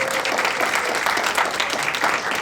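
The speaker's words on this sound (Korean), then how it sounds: "큰 박수로 맞아주시기 바랍니다" Audience applause welcoming the closing speaker at a memorial academic concert marking the 5.18 anniversary: dense, steady clapping from a crowd that holds at an even level throughout.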